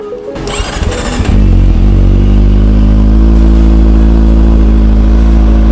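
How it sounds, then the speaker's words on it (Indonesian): A Kawasaki ZX25RR motorcycle fitted with a Yoshimura R77 carbon exhaust cranks and fires up, settling into a loud, steady, deep idle close by with no one talking. "Kita cek sound untuk knalpot Yoshimura R77 nya ya teman-teman ya, di Kawasaki"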